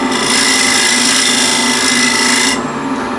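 A wood lathe spinning at 1600 RPM as a square scraper cuts the turning wood: a loud, harsh, continuous rasping scrape that stops abruptly near the end, leaving a softer hum of the machine running.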